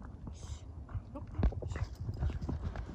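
Horse hooves clip-clop at a steady trot during a horse-riding event with young riders in Jalal-Abad, Kyrgyzstan, with a crowd murmuring in the background.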